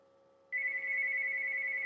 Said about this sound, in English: My house phone's ringing for all these disruptions.